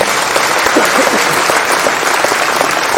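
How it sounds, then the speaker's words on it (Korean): Dense, loud applause for Korean Prime Minister Kim Min-seok at a public event in Jeonbuk, a steady wash of many hands clapping together without pause across the whole stretch. "큰 박수 부탁드리겠습니다"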